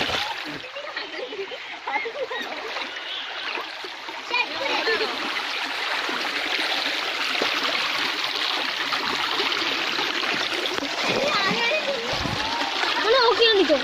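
An overflowing stream rushes and splashes steadily throughout, a broad continuous wash of water close by, with a voice faintly mixed in.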